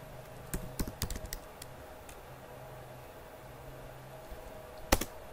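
Computer keyboard typing while entering code, a short burst of close, crisp key clicks followed by a quiet pause and then a single sharper keystroke near the end, with no talking.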